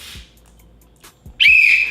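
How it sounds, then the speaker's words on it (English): A shrill whistle blast near the end, loud and close, after a few soft thumps. "Make sure to bring a whistle"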